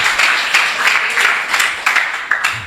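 A church congregation claps for the Lord during a sermon on spiritual battles, a loud close burst of many hands with a few sharper accented claps standing out, no voices over it.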